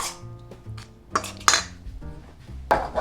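Okonomiyaki batter mixed in a bowl with a utensil, producing close clinks and scrapes against the bowl in a few irregular bursts, without any talk.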